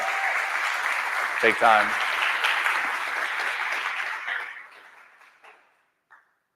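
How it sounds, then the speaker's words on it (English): A conference audience at a summit applauds its sponsors in a broad, steady wave of clapping that fades out toward the end, with a brief voice speaking over it. "let's give a round of applause for all of our sponsors"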